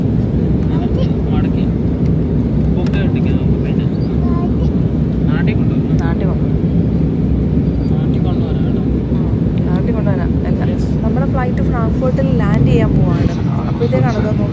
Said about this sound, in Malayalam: വേറൊരു ഫ്ലൈറ്റ് കൂടി പോകുന്നത് കാണാം